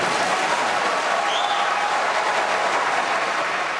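Dense, steady roar of audience applause at a political debate in support of Rudy Giuliani, filling the room evenly without pause for several seconds.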